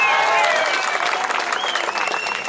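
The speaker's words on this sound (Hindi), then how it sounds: "ठोको ताली, ठोको ताली ठोको" Loud crowd clapping at an outdoor political rally in Aurangabad, a dense burst of applause lasting a couple of seconds with cheering voices mixed in.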